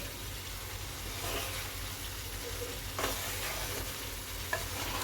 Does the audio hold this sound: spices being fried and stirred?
yes